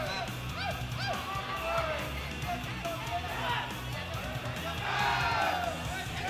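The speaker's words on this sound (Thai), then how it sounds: "แหมทีมเชียร์เชียร์มันเหลือเกินครับ" Cheering crowd at a Muay Thai fight, a loud mix of yells and whoops rising in waves, with a commentator's voice talking over it.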